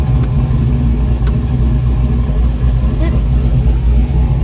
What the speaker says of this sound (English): I'm gonna do the brake, gonna hit the gas.